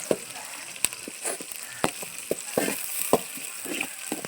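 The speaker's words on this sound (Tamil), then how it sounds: "இப்போ பார்த்தீங்கன்னா ஆனியனு டொமேட்டோ ரெண்டுமே போடுறோம். இது கொஞ்சம் நேரம் பொன்னிறமாக வரணும்." Onion and tomato fry in a pan for a village-style fish curry, giving a soft continuous sizzle broken by sharp clicks and taps of a stirring spoon, with no one talking.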